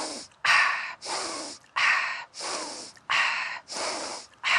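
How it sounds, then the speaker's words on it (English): Rapid power breathwork breaths, drawn in through the nose and pushed out through the mouth, in a steady run of about eight loud, close, forceful bursts with brief pauses between, no talking. "1 in for the nose, 1 out of the mouth"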